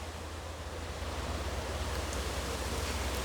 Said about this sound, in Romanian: Vântul bate foarte tare atunci când filmez pentru voi